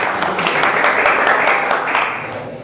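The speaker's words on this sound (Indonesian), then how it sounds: "Tepuk tangan bagi kelompok Royan" A class in an Arabic language lesson applauds group Royan, a steady wash of many hands clapping throughout before tapering off slightly at the end, with no speech over it.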